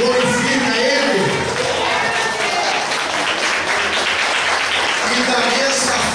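A church congregation applauds during a worship service, sustained clapping from a crowd that carries on evenly throughout, loud and close.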